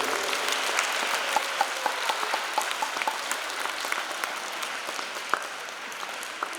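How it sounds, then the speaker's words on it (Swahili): A church congregation at a Catholic Mass in Ngong Deanery claps for a man named William, producing a sustained, even roll of many hands with a few sharper individual claps standing out, heard from across the room. "makofi kwa William."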